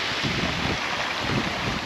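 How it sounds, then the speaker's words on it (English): Wind gusts buffet the microphone at a Palmanova harbour in Mallorca where yachts are moored, a loud continuous rushing roar with low rumbling surges throughout. "Just catching the wind."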